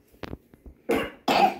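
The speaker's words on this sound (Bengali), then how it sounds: "আবার কাশিটা উঠেছে।" A child coughs in two loud, harsh bursts near the mic after a few faint small sounds, with no talking.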